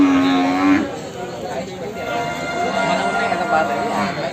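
A low bellow from a water buffalo sounds at the start, followed by a steady hum of livestock and voices around the crowded Erragadda buffalo market.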